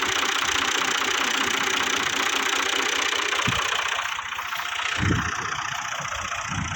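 A tractor engine idles steadily through a wheat harvest, a rough low rumble with a few heavier thumps near the end and no talk over it.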